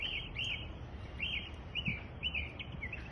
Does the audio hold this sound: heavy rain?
no